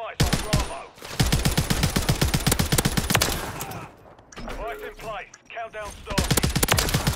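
A battle rifle fires in rapid bursts in a shooter video game, loud and close, with clusters of sharp reports broken by short pauses. A brief stretch of other game sounds comes in the middle, with faint voices underneath.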